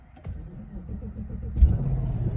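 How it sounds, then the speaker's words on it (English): An Infiniti FX50 engine with 218k miles cranks briefly and catches, then settles into a low, steady idle rumble nearby. "I'm going to start the vehicle and you'll see that."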